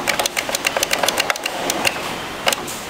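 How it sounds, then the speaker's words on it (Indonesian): A handheld power tool's electric motor whirs up in short repeated bursts as its trigger is pressed and released, a close, buzzing drone with a faint underlying hum between pulses. "Kalau tombol trigger itu ketika kita tekan maka motor akan hidup"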